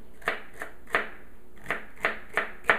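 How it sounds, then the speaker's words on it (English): A knife cutting celery on a board at close range, with six crisp, evenly spaced chops in a steady rhythm. "And then I'll just cut my celery up here."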